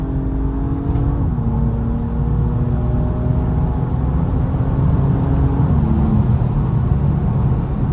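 A BMW M235i driving through Johannesburg traffic gives a steady, loud engine drone heard from inside the cabin, with harmonic tones that shift with gear changes and continuous road rumble, with no talking.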